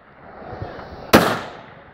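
A single sharp gunshot from a precision rifle at a steel target during a Steel City precision rifle match, heard at a distance as one loud crack with a short decaying tail over quiet background.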